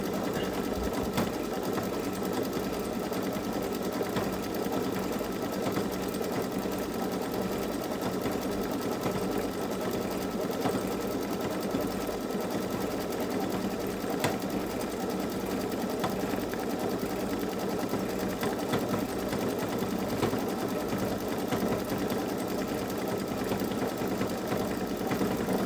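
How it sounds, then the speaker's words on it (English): A Baby Lock Solaris embroidery machine stitches a hummingbird's long beak, giving a continuous, even mechanical whirr with a rapid needle rhythm that holds steady throughout, close and moderately loud. "it must be the one where it's stitching out its long beak"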